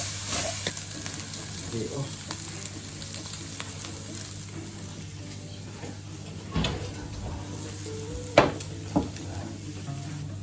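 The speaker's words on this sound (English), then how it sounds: "Now the bacon's starting to brown." Bacon sizzling and starting to brown in a frying pan, a steady close crackle running throughout with occasional sharper pops and spatula knocks, a few louder clatters near the end.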